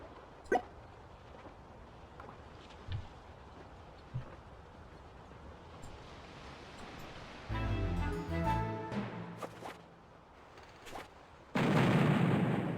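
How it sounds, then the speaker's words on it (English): Cannons boom in a video game, with scattered dull thumps and a couple of heavier bursts of rumbling fire close by, set against a quiet background. "Oh my god, the cannons!"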